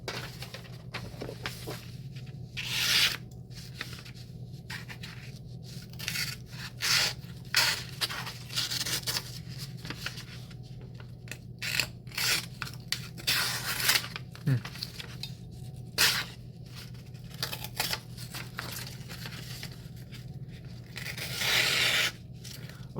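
A custom Hatt knife slices through a fresh sheet of paper in a quiet room, producing a series of short, crisp scraping and tearing bursts at irregular intervals over a faint steady hum.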